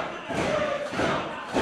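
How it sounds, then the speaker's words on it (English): A wrestling crowd at a live show roars in surges, with a couple of dull thuds mixed into the cheering that swells and dips over a short stretch. "I bet you Cisco is not used to having a crowd cheer for him."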